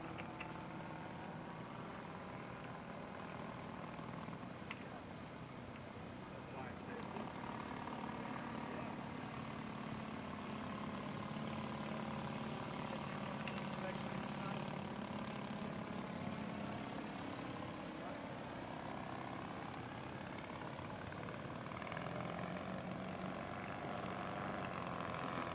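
A 70-pound scale model Demoiselle aircraft with a bamboo fuselage flies a touch and go at a Las Vegas model meet, its engine droning steadily with a rising and falling pitch as it passes.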